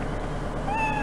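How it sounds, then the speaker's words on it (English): A cat meows in the sci-fi video game The Space Bar, a short rising mewing call that arrives in the second half over a steady synthetic ambient hum, fairly faint and alone without talk. "Sounds like a cat."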